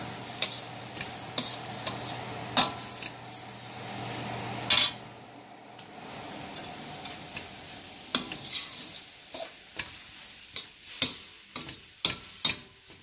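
Spicy mushrooms frying in a stainless steel wok, with a soft steady sizzle broken by sharp scraping and clinking of a utensil against the metal at irregular intervals, close and moderately quiet.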